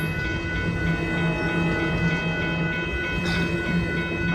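The eastbound triple-header Amtrak California Zephyr Train #6, led by P42 locomotives, passes Sutro Street in a close, loud, continuous rumble with tonal hum and a brief sharp hiss near the end.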